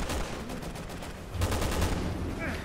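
Gunfire from a sniper rifle in the video game Resident Evil 6, a pair of sharp shots with a brief burst between them, loud and close against the game's background ambience.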